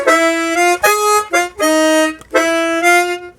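A chromatic harmonica plays a short bluesy phrase of bright sustained octave notes, starting on the flat third, in three quick bursts, loud and close, with brief breaths between.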